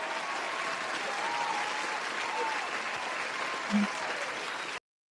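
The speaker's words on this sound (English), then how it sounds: "Can we get the round of applause, Klein?" Steady crowd applause at a live broadcast event inside the US Capitol, a continuous even patter of many hands lasting several seconds before cutting off abruptly.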